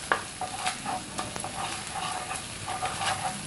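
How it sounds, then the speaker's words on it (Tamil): Close, steady sizzling of ginger garlic paste frying in butter, with occasional stirring scrapes and clicks throughout. "இஞ்சி பூண்டு பேஸ்ட் சேர்த்து அதோட பச்சை வாசனை போகிற அளவுக்கு பட்டரில் நல்லா வதக்கணும்"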